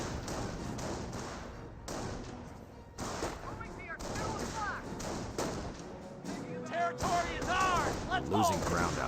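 Suppressive fire from a G43-armed German squad in the real-time strategy game Company of Heroes: rapid, sharp gunshot cracks and thuds in close succession, mixed with game battle noise and voice-like unit chatter throughout.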